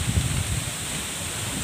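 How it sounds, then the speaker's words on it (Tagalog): Strong wind buffets an outdoor microphone in a field during a peanut harvest, a steady broadband rush with heavier low gusts in the first half-second, with no voices. "Lakas ng hangin."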